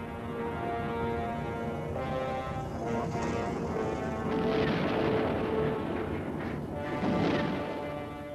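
Soviet aircraft bombing villages in Afghanistan in archival war footage: heavy, rumbling explosions swell and crash one after another, dense and distant-sounding, with no talking.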